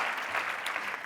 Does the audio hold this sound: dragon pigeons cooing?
no